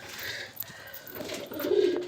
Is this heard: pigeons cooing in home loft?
yes